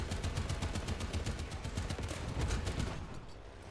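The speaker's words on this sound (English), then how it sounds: "And now machine gun this guy." Tank machine gun in War Thunder on a T25, firing a steady, rapid burst of loud, evenly spaced shots for about three seconds before cutting off.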